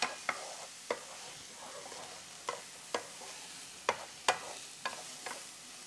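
Chopped vegetables for shakshuka brown quietly in a pan, a faint sizzle under sharp, irregular spatula taps against the pan spaced a second or so apart.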